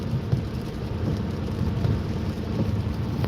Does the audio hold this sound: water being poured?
no